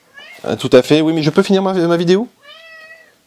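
A cat meows clearly and close by at the end, a single drawn-out tonal meow, right after someone speaks in French.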